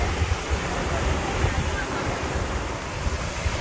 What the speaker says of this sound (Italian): Guardate qui che bel fiume.